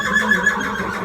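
A horse, a black Friesian cross mare at a horse auction, lets out a short loud whinny lasting about a second, close and clear with a wavering tone.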